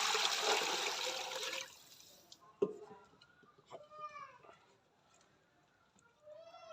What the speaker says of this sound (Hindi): प्रेशर जो है चूल्हे पर चढ़ा लेंगे, इसमें पानी डाल देंगे।